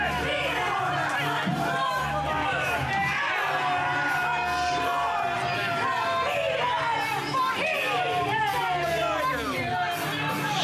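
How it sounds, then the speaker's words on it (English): A dense crowd at a women's wrestling championship match cheers and shouts without a break, loud and steady throughout, with a general roar of voices. "And you hear the crowd."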